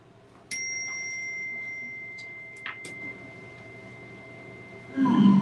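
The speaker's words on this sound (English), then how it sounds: "with the sound of that chime, let's come into this present moment" A single bright chime is struck to open a Sunday prayer and meditation session, its pure tone ringing and slowly decaying for several seconds, with a few faint knocks during the ring and a burst of noise near the end.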